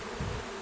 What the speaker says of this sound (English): these are totally native bees.